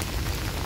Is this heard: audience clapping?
no